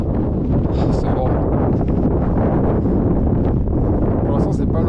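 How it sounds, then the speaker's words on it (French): Strong wind on a mountain ridge near Dent d'Oche buffets the microphone in a loud, continuous roar with gusty rustling, steady and close for the whole stretch. "Pour l'instant c'est pas l'orage, c'est le vent"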